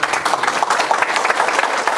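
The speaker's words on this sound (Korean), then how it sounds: "박수 한번 쳐주셔야 됩니다." An audience at a book concert breaks into steady, dense applause, many hands clapping together at an even, close volume throughout.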